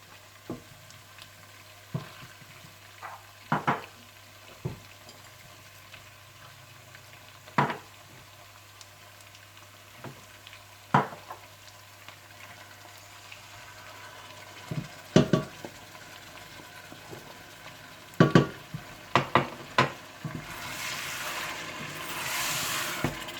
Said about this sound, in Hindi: आप इसमें पिसी हुई ब्राउन की हुई प्याज, दही, कोरमा मसाला, जूलियन कटी हुई अदरक और नमक डालकर अच्छी तरह से भून लें